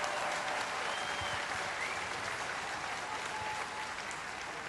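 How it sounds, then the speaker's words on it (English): Sustained applause from a crowd at a Bondi Beach vigil, steady and dense clapping that fills the whole stretch without pause. "Another round of applause, please, for this incredible woman."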